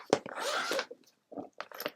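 A zipper on a stitching or needlework bag being pulled closed, a few short rasping bursts close by with brief pauses between them, set in a quiet room.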